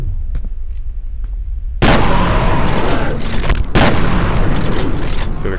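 Shotgun blasts in the first-person shooter FEAR: two loud, heavy booms about two seconds apart, each followed by sustained roaring gunfire noise, with quieter clatter before the first shot.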